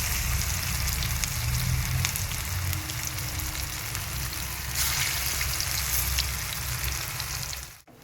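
Pakoras sizzling in hot oil, a steady crackling hiss that runs close and even throughout with no talking, then cuts off abruptly at the end.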